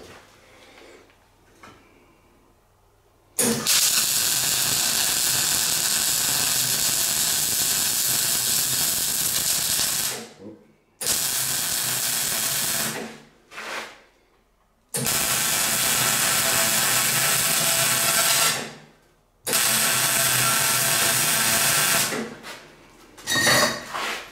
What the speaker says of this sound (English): So I'll start welding.